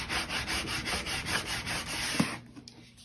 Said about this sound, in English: So I'm going to take my sander and distress this up a little bit